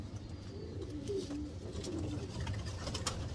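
Racing pigeons bred for 2021 cooing steadily at close range, soft low throaty coos repeating over a constant murmur of other birds in the loft.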